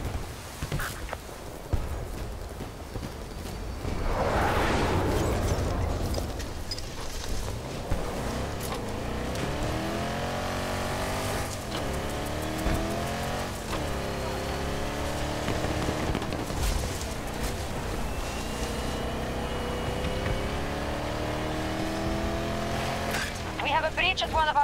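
A transport vehicle arriving in a video game: an engine rises and falls as it approaches, with revving surges and tire noise over about twenty seconds, under intermittent radio-style voices.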